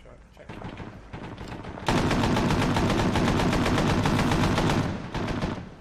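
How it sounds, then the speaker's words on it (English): Heavy automatic gunfire in the Arma 3 military game, from a convoy under attack in Takistan: sparse shots at first, then a loud, dense, continuous burst of rapid fire lasting several seconds before easing off. "We're taking fire again."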